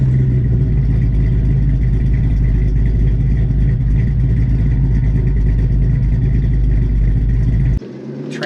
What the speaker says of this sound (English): that numbers matching L34 350 horse 396 fires right up